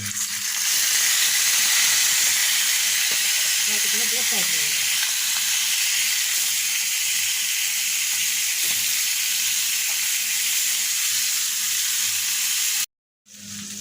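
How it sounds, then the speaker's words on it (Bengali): Rohu fish head, tail and pieces fry in hot oil in a pan, giving a loud, steady sizzle that continues throughout, with a brief stir partway and a short cut near the end. "রুই মাছের মাথা লেজ এবং কয়েকটি পিস আছে এগুলো আমি ফ্রাই করে নেবো"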